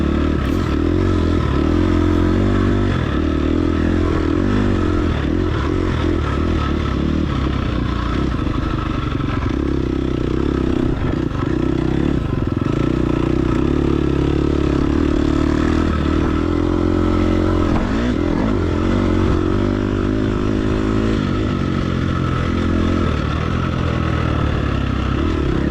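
Motorcycle engine running steadily while the bike is ridden through a series of corners, a loud continuous drone with rising and falling revs and shifts, close and alone without speech.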